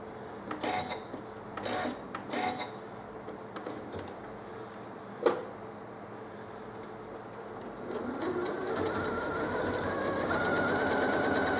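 A Janome Skyline S7 sewing machine stitches patchwork, first in short whirring bursts with clicks and a sharp knock, then running in a steady, close, continuous buzz toward the end.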